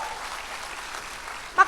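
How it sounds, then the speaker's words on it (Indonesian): A church congregation applauds, a steady wash of clapping that runs throughout and ends with a brief louder burst, moderately loud and mid-distance. "Tepuk tangan sama Tuhan Yesus."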